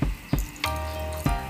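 Vinegar is poured into a dish while cooking kilawing balbakwa, a steady liquid stream running for most of the moment, with brief knocks and clinks at the start and end.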